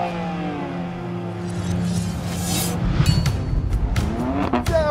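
A BMW M2 Competition launching in a drag race against an electric Tesla Model 3, the engine revving and rising in pitch as it pulls away, moderately loud, with rumble and brief tire noise.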